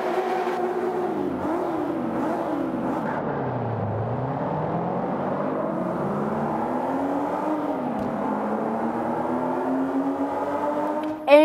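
A BMW M1 engine in Forza Motorsport 5 revs and whines through gear changes, pitch rising and dipping steadily for several seconds, close and continuous, with no voices.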